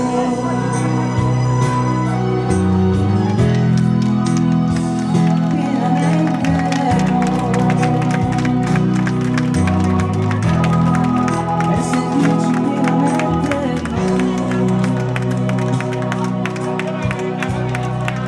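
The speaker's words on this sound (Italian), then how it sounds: "applausi più forte, vai!" Wedding guests applaud and cheer in a reception hall, loud sustained clapping running under music that plays throughout.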